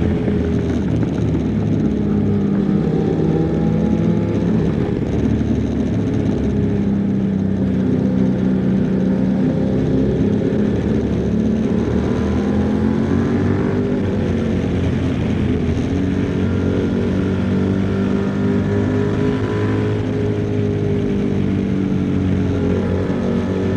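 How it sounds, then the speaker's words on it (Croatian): A QJ Motor SRT 800 motorcycle engine running steadily while riding, a loud continuous drone with shifting tones as revs rise and fall, heard alone without speech throughout. "Zvuk je ono što daje čar motoru."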